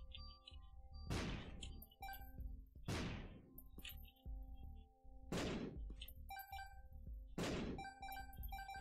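Four booming explosions from bombs in The Binding of Isaac: Repentance, each a sharp loud blast with a fading tail, spaced about two seconds apart over a steady game music bed.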